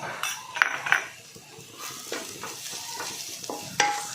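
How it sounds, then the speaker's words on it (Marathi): A spoon clinks and scrapes against a pan as spices for a stuffed capsicum filling are stirred and mixed over a faint sizzle, with several distinct metallic taps spaced across the stirring. "सर्व मिक्स करून घ्यायचं आहे"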